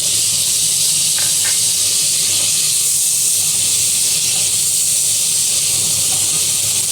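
Soy sauce splashes onto frying chicken gizzard and liver, producing a loud, dense, steady hiss of steam and sizzle that fills the whole stretch without any speech.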